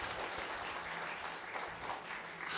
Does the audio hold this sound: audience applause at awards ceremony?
yes